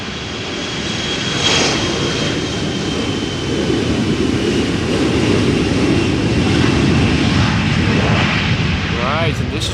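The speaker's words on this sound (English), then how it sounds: "number 175 from KLM already spooling up" KLM airliner engines spool up for takeoff at Amsterdam Schiphol, a loud, broad, continuous roar that holds steady and swells slightly over the stretch.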